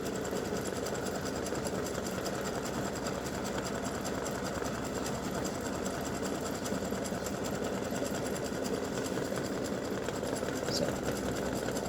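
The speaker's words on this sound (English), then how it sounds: "It's going to do the satin stitching all the way around." A sewing machine runs continuously through satin stitching around a piece cut from a t-shirt, a rapid even mechanical whir heard up close.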